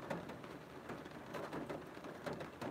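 Rain falls steadily outdoors, a soft, even patter with a few slightly louder drops and no voices.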